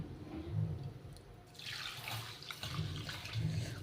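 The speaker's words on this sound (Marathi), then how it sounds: "तेल गरम होईपर्यंत आपण तांदूळ धुवून घेऊया।" Rice is washed under a running kitchen tap. The water splashes steadily and close by, with a hissing gush that swells midway, and no one speaks.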